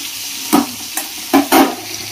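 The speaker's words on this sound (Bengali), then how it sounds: "এদিকে মাছ ভাজা বসিয়েছি আর এদিকে হচ্ছে ভাত" Fish frying in a pan beside a pot of rice, heard as a low sizzle broken by a few short, louder bursts of spatter or stirring.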